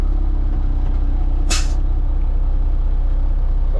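A Volvo F7 truck lets out one sharp, loud air brake hiss partway through, over a constant low idling engine drone.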